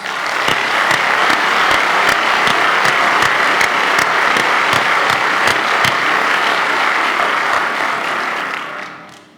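An audience at a daytime festival on the presidency gives sustained applause. Dense clapping runs steadily for about eight seconds, then fades away, with no speech over it.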